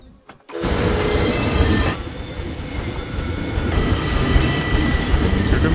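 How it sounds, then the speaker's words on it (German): A passenger train in the Planet Zoo video game rolls along its rails with a loud, continuous rumble and clatter, starting abruptly after a moment of near silence and holding steady throughout. "Der Zug ist da. Guck mal, die Leute steigen ein. So, dann fahren wir jetzt damit."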